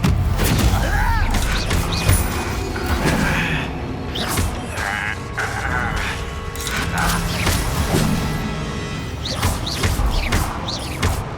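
Hogwarts Legacy combat with Confringo fire spells: a rapid string of blasts, booms and crashing impacts mixed with clanking game effects, busy and fairly loud throughout, with bursts landing every second or so.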